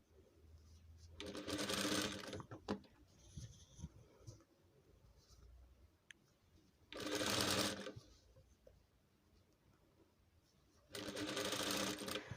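A sewing machine stitches velvet fabric for a house galabeya in three short bursts of steady whirring, close and moderately loud, with quiet handling sounds and pauses between runs.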